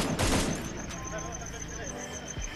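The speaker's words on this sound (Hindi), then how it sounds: "इंटर बटन प्रेस करने पे ये फायरिंग कर रहा है" A gun fires in a mobile shooting video game played through mouse mapping on Android. A loud, rapid burst of automatic fire comes first, followed by quieter in-game shots and effects.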